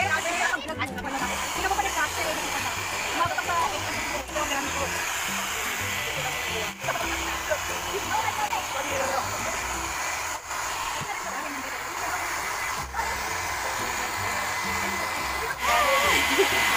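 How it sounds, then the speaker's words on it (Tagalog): A hair dryer blowing freshly washed hair dry during a home DIY rebond treatment, a loud steady whooshing hum running throughout, with people talking over it. "Iba-blower na po siya para matuyo na"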